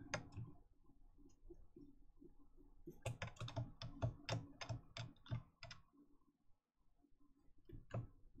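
Fingers type on a computer keyboard in quick clusters of close, crisp keystrokes, with a slower stretch, then a dense run of taps and a final lone click.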